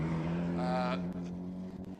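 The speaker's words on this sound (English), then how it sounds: "it sounds like perhaps a little bit of a misfire developing there" A hill climb race car engine with a developing misfire drones loudly, a sustained tonal note swelling mid-way then turning rough and stuttering with brief dropouts, while a commentator talks over it.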